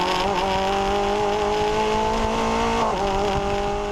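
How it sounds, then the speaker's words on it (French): Renault Spider sports car engine and intake droning steadily while driving, loud and close, with the pitch dipping briefly near the end and no voices. "tu entends tout, l'admission juste derrière tes oreilles, le bruit des petits graviers dans les passages de roues"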